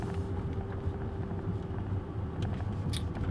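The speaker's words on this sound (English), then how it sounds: "it's fairly audible, and it's not a good sounding engine" The four-cylinder engine of a 2016 Volvo XC90 runs as a low, steady hum with mild roughness, heard from inside the vehicle at a moderate level alongside faint wind noise.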